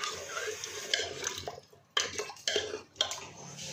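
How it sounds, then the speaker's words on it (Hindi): About 250 ml of water is poured into a cooking pot of arvi gosht, a taro and meat curry, giving a close, soft splashing gurgle with a few light clinks of metal. "देखिए इसके अंदर मैं 250 ml पानी डाल रही हूँ।"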